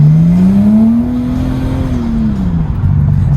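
A car engine revs up close by, its loud, steady drone climbing in pitch, holding high for a moment, then easing back down toward idle, with no talking.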